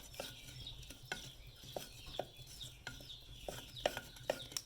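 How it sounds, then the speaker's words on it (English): Cassava leaves are stirred in a cooking pot with spring onions and turmeric. A utensil scrapes and knocks against the pot in soft, irregular strokes, faint and close, with no voices. "Then I'll stir."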